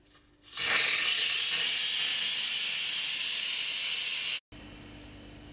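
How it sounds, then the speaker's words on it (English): Steam rushes out of an Instant Pot's release valve, a loud continuous hiss that starts suddenly, holds for about four seconds and cuts off abruptly, leaving a low background hum. "The instant pot is at the 0, so now we can release the steam."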